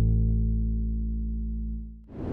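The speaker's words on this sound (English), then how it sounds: "And the bass is from this Aviotic Tools One Shot and Phrase Kit by Key Major." A one-shot bass sample from the Aviotic Tools One Shot and Phrase Kit sounds as one long, deep, sustained note that slowly decays. It is loud and plays alone, with a brief noisy hit near the end.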